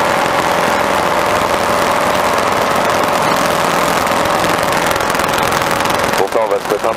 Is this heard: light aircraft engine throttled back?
yes